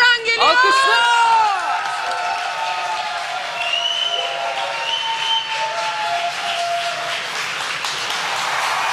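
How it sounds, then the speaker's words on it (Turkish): A Turkish television studio audience erupts in cheering, shouts and whistles at a pop singer's entrance, loud at first and then settling into sustained applause and whoops with music underneath. "Alkışlar!"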